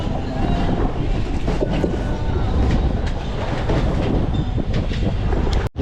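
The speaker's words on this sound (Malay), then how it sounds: "Angin semakin kuat geng." Strong wind roars steadily over a small fishing boat at sea off Pulau Pisang, Pontian, a dense rushing noise lasting throughout with low engine-like rumble beneath and no talk.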